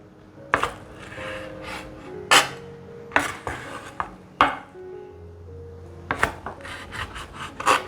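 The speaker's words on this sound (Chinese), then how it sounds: "来切素鳗鱼，从中间先切，这样比较好平分。" Knife slicing through a vegan eel made from pink beetroot rice and seaweed, cut first down the middle and then into squares: a series of separate crisp rasping cuts and board taps at an uneven rhythm, close and fairly loud.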